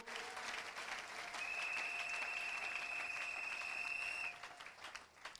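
A church congregation at a French-language worship service applauds and acclaims the Lord in steady, sustained clapping that fills several seconds over a held musical tone, then tapers off at the end.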